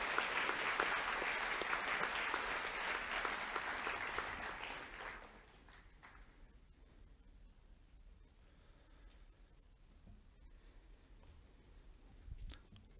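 Audience applause at a school co-curricular awards evening for Year 7 students, a loud sustained burst of clapping for about five seconds that fades to scattered faint claps in a quiet hall.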